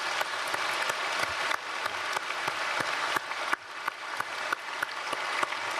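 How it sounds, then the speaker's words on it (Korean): A church congregation at a March special dawn service at Myungsung Church gives sustained applause, a dense, even patter of many hands with scattered sharper claps, heard at moderate distance. "영광의 박수 올려드리겠습니다."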